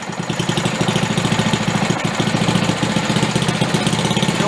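A Simplicity 1250 snow blower engine idles steadily and close by, with a regular, slightly uneven rhythmic chug that holds alone and unchanged throughout.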